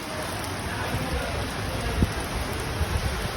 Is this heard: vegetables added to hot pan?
no